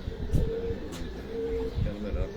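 Racing pigeons cooing nearby, low rounded throaty coos repeating a few times under a voice speaking.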